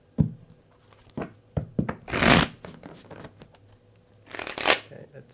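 Tarot cards shuffled by hand in a series of papery riffles and soft thunks, with two longer, louder bursts of rapid card flutter, close up and with no one speaking.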